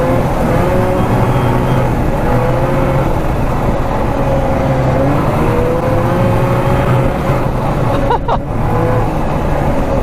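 A vintage Raider 34TT twin-track snowmobile engine roars steadily and close while riding, its pitch wavering with throttle changes and a brief knock partway through.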